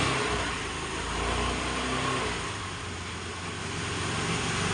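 A Hero Honda Pleasure scooter with a self-start and battery charging fault runs steadily close by, a continuous engine drone with a mild rise and fall in pitch as it is revved.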